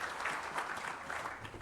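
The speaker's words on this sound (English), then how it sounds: "Give her a round of applause as she reaches the stage" A brief, faint round of applause from an awards ceremony audience as Mary Jane Bethel walks to the stage, soft and distant.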